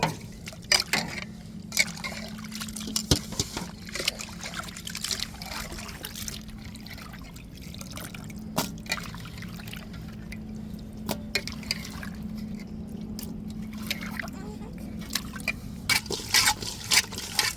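Fish scrubbed with coarse salt is rinsed in a bowl of water, with steady close trickling, dripping and sloshing through the whole stretch and occasional sharp clicks and knocks, no talking.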